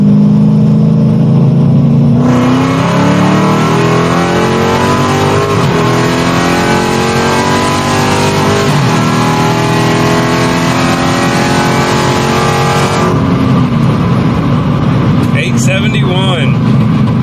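A cat-deleted Dodge Hellcat with the transmission in manual mode pulls hard from around 56 mph in third gear, its loud, close engine roaring and climbing through gear shifts for about eleven seconds before easing off.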